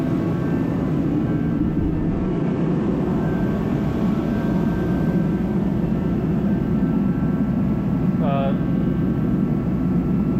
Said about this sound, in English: So it's pretty noisy, but here's the portable heater.